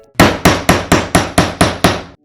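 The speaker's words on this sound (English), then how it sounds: "put it on this metal platform and smack it down with a special tool and a hammer" A hammer smacks an eyelet-setting tool down onto a metal platform, eight loud, sharp, evenly spaced strikes in quick succession, each ringing briefly before the next.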